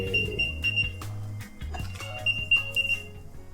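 An item tracker tag, an Apple AirTag or Samsung SmartTag, rings its alert: a loud, close, repeating electronic beeping melody that pulses in a steady pattern without any speech.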